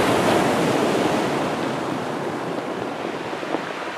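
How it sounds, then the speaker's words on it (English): Large ocean waves crash and wash continuously onto a black sand beach in winter, a loud, steady roar of surf with wind buffeting the microphone and a slight swell near the end. "There's a big wave coming."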